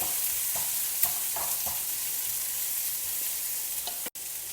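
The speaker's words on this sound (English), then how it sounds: "and some sliced onion. Saute everything together." Sliced onion sautéing in a pan while a dosa filling cooks, a steady soft sizzle and hiss with a few light scrapes of a stirring utensil, close and even throughout.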